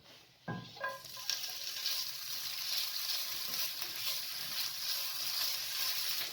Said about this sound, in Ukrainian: Смажимо бекон на невеликій кількості олії.